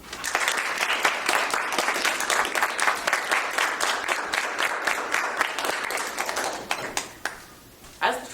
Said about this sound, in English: the audience should applaud at least until the arriving speaker begins shaking hands with the departing speaker